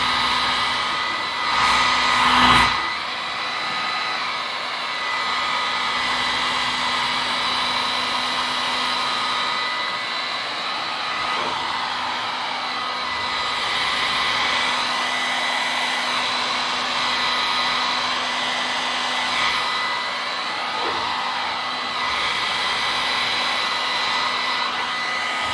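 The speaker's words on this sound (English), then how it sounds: "I typically like to use a blow dryer." A blow dryer blows air to dry ink on painted nails, a steady, even whirring drone that runs for about twenty-five seconds with a short louder burst near the start and no talking.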